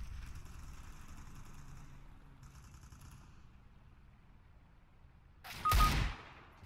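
A short, loud burst of gunfire from a deagle pistol in the game Overwatch rings out near the end, following a stretch of quiet rumbling background and faint high electronic tones.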